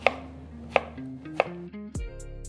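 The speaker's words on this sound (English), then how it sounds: "I'm cutting the apple into slices so that chopping it becomes" A knife chops apple slices on a board in three crisp, evenly spaced strikes, followed by a louder final chop, all heard over soft background music.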